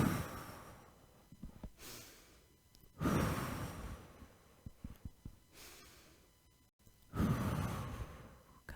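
Slow, deep breaths during a hatha yoga flow, with long airy exhales in a steady cycle, close and quiet, and soft breathy inhales and faint movement between them.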